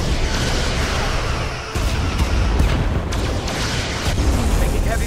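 Starship weapons fire and heavy explosions in the game Star Trek Resurgence, a dense, loud, continuous barrage of booms and bursts with sharp hits layered over a rumbling low roar throughout.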